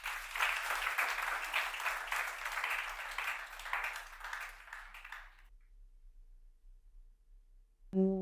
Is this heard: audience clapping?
yes